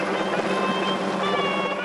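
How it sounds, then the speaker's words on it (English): A helicopter climbs overhead, straining to reach its drop height as it circles; a steady, loud rotor and engine roar with a whining hum holds throughout. "The chopper struggles getting to its drop height, circling above the team as it climbs."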